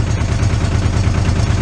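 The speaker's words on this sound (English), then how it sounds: "You'll hear the engine start to work once it gets up and up." A Yanmar 240D diesel tractor engine labors as its blade lifts, a close, steady low-pitched chugging with a regular pulsing rhythm and no voices.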